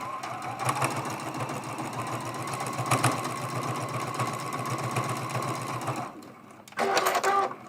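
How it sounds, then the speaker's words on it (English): A sewing machine runs steadily for about six seconds, stitching in the ditch down the middle of a small quilted autumn mug rug, then stops briefly before a short second burst of stitching. "And then we're going to sew right down the middle there"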